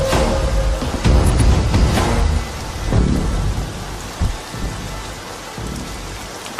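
Heavy rain pours steadily while loud thunder cracks and rolls nearby, booming strongly in the first seconds and again around the middle before easing into a continuous downpour.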